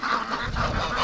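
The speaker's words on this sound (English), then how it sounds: "Look at the size of that goose." A large goose gives a loud, close, raspy honk amid a farmyard pen with ducks, one sustained nasal call filling the moment.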